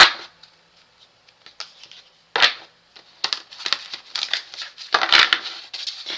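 Tarot cards shuffled and slapped onto a table in irregular bursts of crisp clicks and clacks, near and fairly loud, starting sparse and growing busier.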